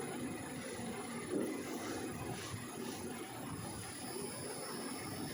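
Steady mechanical whirring and rumbling of a saree roll press machine running continuously, moderately loud and even throughout, with no talking.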